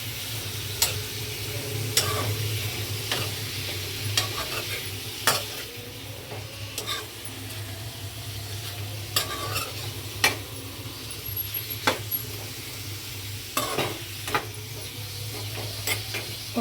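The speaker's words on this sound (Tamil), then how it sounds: "கொஞ்சம் அந்த எண்ணெயிலே பிரட்டி விடுங்க" Food stirred in hot oil in a pan for a Sunday home-cooked meal, with a steady low sizzle and frequent sharp scrapes and taps of a spoon against the pan at an irregular rhythm, close and alone without talk.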